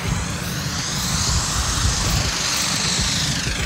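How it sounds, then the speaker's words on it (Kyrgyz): The President of Kyrgyzstan's helicopter sets down at the Alatoo resort site, a loud continuous rotor and engine roar holding steady and close throughout, with no talk heard. "президент Садыр Жапаровдун тик учагы келип конду"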